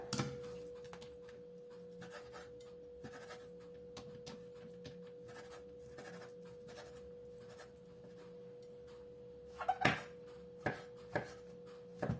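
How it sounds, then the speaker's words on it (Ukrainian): Quiet, scattered knife strokes slicing chicken fillet tap and slide on a board, faint and irregular, growing into a few sharper cuts toward the end. "Також нарізаю філе."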